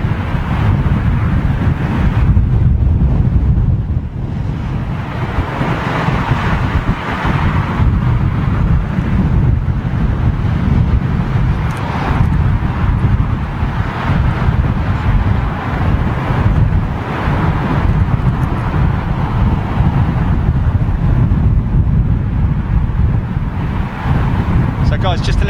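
An airliner with LEAP-1A engines, an A320neo-family jet, roars continuously on a stormy, windy approach into London Heathrow, heard close with heavy wind buffeting the microphone throughout.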